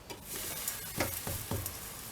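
Pancake batter sizzling in a hot pan as it is flipped, a close crackling fry with a few quick scraping bursts of the spatula.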